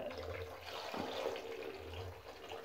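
Rinse water from washing rice is poured out of a rice cooker pot, a steady splashing, gurgling stream at moderate level running throughout without pause.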